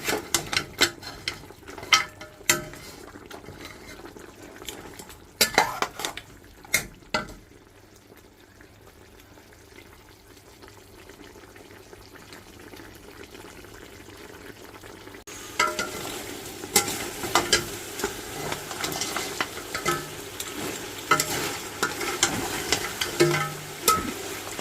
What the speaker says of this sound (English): Fry it around a little bit, and then I'll cover it up and allow it to pressure cook.